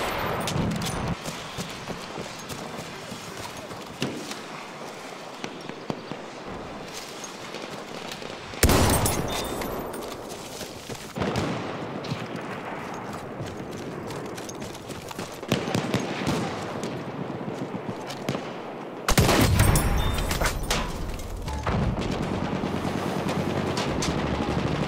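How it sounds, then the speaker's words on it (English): Enemy machine gun fire rattles through a Battlefield 1 battle in long, rapid bursts with scattered gunshots and louder nearby blasts, and a crackling fusillade continues throughout. "There's an enemy machine gun."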